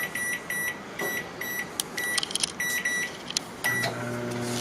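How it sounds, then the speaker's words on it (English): A series of short electronic beeps from keypad presses, then a microwave oven starts up at half power with a steady low hum. "So we'll do it half power for a minute."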